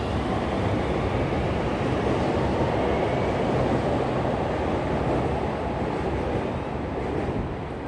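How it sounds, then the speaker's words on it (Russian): An elevated metro train in Chicago rumbles past with a steady, dense roar that holds at a constant loudness throughout. "метро над поверхностью"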